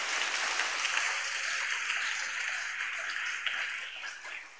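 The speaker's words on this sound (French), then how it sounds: "Acclame très fort pour le Seigneur." A church congregation applauds and cheers in praise of the Lord, a dense, steady wash of clapping that fills the room without a break.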